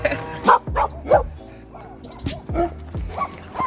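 A dog on a Colombian coffee farm barks repeatedly up close, a series of sharp yelping barks and whimpers in an uneven rhythm, loud and clear.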